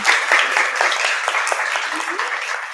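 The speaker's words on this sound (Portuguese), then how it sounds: "Uma salva de palmas aqui para o Lucas, gente, por favor." Audience applause after a Portuguese-language talk on writing as expression, resistance and memory; a steady, fairly loud wash of clapping from a room of listeners that holds for nearly three seconds.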